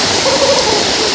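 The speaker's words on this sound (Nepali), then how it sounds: "झर्नाको अगाडि हो यो शीतल छ" A waterfall on the Poon Hill trek in Nepal roars with a constant broadband rush, loud and close, with no other sounds over it.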